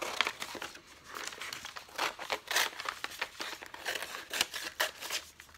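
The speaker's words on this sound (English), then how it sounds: "I'm gonna use my big scissors so I can cut this out." Big scissors cut through a Gelli plate print on paper, a quick run of close crisp snips mixed with rustling and crinkling of the sheet as it is handled.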